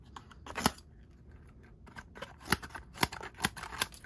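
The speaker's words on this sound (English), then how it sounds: "These are amazing, amazing scissors." Small scissors on a Sunbird multi tool snip open and shut in a series of sharp metallic clicks, a few spaced cuts and then a quicker run of them, quiet and close.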